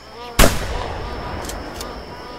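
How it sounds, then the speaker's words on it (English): A single loud gunshot cracks out in The Hunter Classic while hunting magpie geese at Piccabeen Bay, followed by a decaying echo and faint ambient game sounds. "Well, I'll definitely shoot at one of them."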